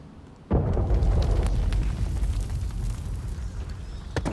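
An explosion in the cave level of the video game Uncharted 4 hits with a sudden loud boom, then rolls into a long, dense rumble with scattered crackles and debris bursts.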